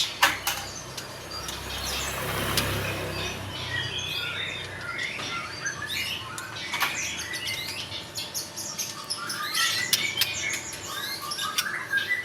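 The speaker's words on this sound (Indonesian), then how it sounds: "Burung sehat banget, aktif banget ya." A healthy, very active caged songbird calls repeatedly at close range, sharp chirps and squawks in quick irregular bursts, with some louder clusters over a light background rustle.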